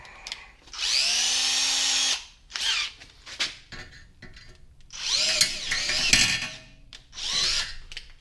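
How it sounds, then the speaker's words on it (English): A power drill whines in several bursts of rising and falling pitch, biting and grinding into material at an angle close up, with short pauses between runs, while working on the air box of a 1978 Yamaha XS650 motorcycle. "Trying to drill through at an angle like that."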